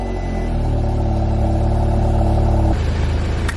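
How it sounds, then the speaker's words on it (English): An Audi S3 engine runs at a steady idle with a low, even hum, then cuts off abruptly near the end, leaving a brief clatter and quiet. "turn the car on."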